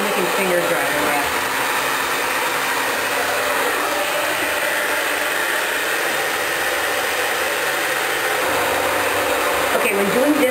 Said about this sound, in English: So I'm going to blow dry the bottom using these.